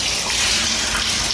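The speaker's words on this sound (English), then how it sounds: "Now what we're going to do is get some rinse water in this bucket" Tap water gushes into a rinse bucket in a steady, close, loud rush with no voices.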